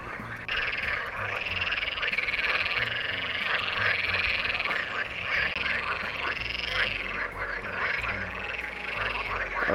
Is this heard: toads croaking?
yes